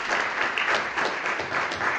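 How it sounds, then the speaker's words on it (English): An audience gives a speaker a steady round of applause at a conference panel on Africa and COP27, even and sustained from start to finish. "Tobi, a round of applause, please"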